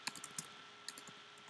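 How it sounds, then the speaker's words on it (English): Brief bursts of typing on a computer keyboard, a few quick clustered key clicks separated by short pauses, close and quiet. "I'm just typing random stuff now"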